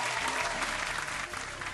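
A short burst of crowd applause, dense steady clapping that carries at an even level through the whole moment before easing slightly at the end.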